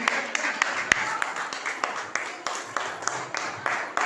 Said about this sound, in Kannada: ಜೋರಾಗಿ ಚಪ್ಪಾಳೆ ಮಾಡ್ತೀವಿ